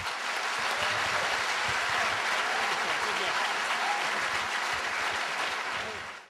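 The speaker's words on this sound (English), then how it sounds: "Let's give him a round of applause." Audience applause closing a creation-versus-evolution debate, a dense continuous clapping from a large crowd, loud and even for several seconds before fading out quickly at the end.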